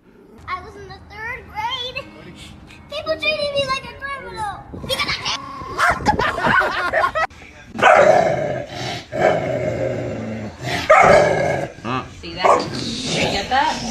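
Angry pet dogs bark and snarl in loud, irregular bursts, with overlapping yelps and growls and voices mixed in throughout.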